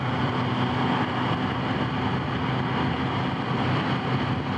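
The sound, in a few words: Kawasaki ZH2 motorcycle engine while riding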